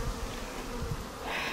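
Dense, steady insect buzzing from many bees crowding a hive entrance close by, a continuous droning hum with no voices.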